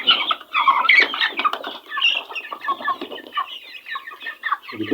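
Noiler and broiler chickens clucking together in a poorly ventilated indoor pen, a busy, close chorus of overlapping clucks and chirps that carries on without pause.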